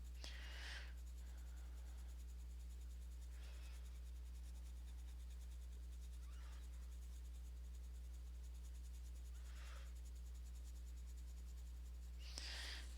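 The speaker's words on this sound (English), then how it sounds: "we're just going to blanket color everything very, very, very lightly." Colored pencil lightly shading across paper, faint soft scratchy strokes coming in a few brief, widely spaced bursts over a steady low hum, with no talking.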